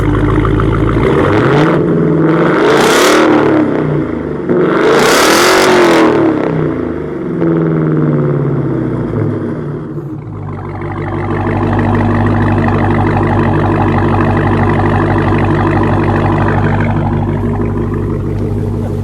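A 2018 Dodge Challenger Hellcat Hurst Heritage engine revs hard twice in rising roars, then settles into a deep, loud, rumbling idle up close.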